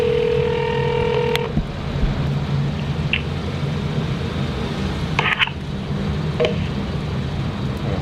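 Telephone keypad tones on a phone line: a held tone, then a few short separate beeps after a pause, set against a constant low line hum.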